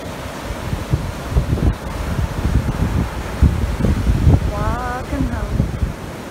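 Wind and surf rush steadily at sunset on Tybee Island beach, a continuous broadband wash with gusty swells, while a voice talks over it throughout.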